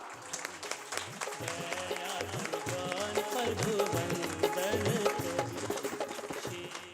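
An audience at a hymn release ceremony in Rattanabad claps together, a dense steady patter of many hands that swells through the middle, mixed with music and voices underneath.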